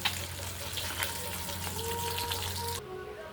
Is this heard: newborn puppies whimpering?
no